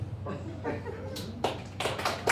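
Scattered audience clapping in a comedy show answers a question, a few sparse claps rising into short bursts near the end, with faint murmuring and chuckles around them.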